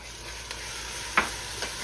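Quiet stirring of a hot butter candy mixture just after vanilla is poured in, with a soft constant sizzle and a few sharp spoon scrapes against the pan.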